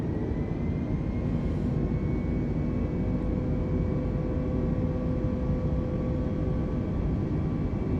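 Airliner engines at TOGA takeoff thrust in the Flight Simulator video game hold a loud, unbroken roar, with a thin steady whine running over it.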